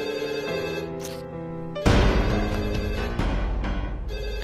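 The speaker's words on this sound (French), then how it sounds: "si le téléphone de la maison sonnait, tu devais répondre parce que ça pouvait être lui" A house telephone rings in a domestic drama, repeated bright ringing bursts over a continuous music bed, fairly loud and close, with no talk.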